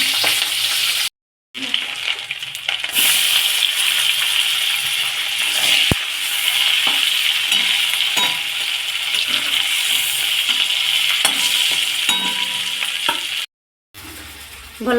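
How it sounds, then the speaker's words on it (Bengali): Giant freshwater prawns fry in hot oil, making a close, continuous sizzle with crackles and occasional clinks, interrupted by two short silent breaks. "এবার এক এক করে গলদা চিংড়িগুলো ভেজে নেব"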